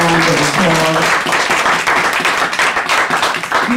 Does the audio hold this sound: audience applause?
yes